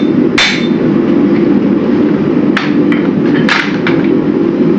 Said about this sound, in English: Basic hammer technique, nice and safe.